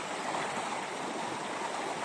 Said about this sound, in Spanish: es un río limpio